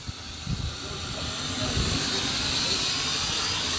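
JJRC H8C quadcopter motors whirring in flight, a steady broadband hiss that swells slightly and holds loud throughout, with faint low thumps of wind underneath.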